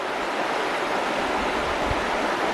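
Cold, clean water rushes over small rapids in a stream in Pisgah National Forest, a steady, close, full hiss of flowing water with no break.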